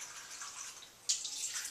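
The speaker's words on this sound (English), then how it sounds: "what I'm going to do is use some distilled water and give it a couple of rinses here" Distilled water sloshes and splashes softly inside a film developing tank during a rinse of freshly developed black-and-white film, with a brief louder pour or splash partway through.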